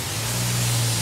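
Motorcycle cleaner sprayed onto a Vespa GTS 300 scooter during a wash, a single sustained hiss of spray lasting about a second, close and fairly loud over a low background hum.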